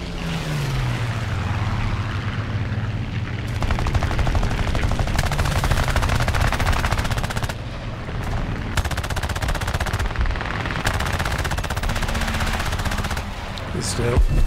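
Aircraft machine guns in the War Thunder video game, an A5M4 fighter dogfight in air arcade, firing long rapid bursts over a steady engine drone, loud and close, in several separate volleys.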